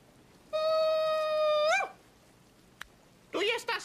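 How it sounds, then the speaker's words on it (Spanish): A dog howls in a single long, steady, clear-toned note that rises at the end and cuts off, followed after a pause by a brief burst of another voice-like sound. "Ya es hora de aullar."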